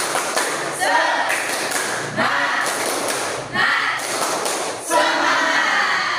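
A classroom of students performs the 'tepuk semangat' spirit clap, with crisp patterned bursts of clapping in rhythmic groups separated by short pauses, close and loud, with voices chanting along.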